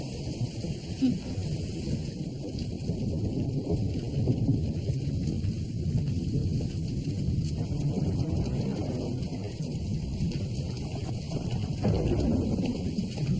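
Heavy nighttime rain pours in a dense, constant roar, with deep thunder rumbling underneath throughout.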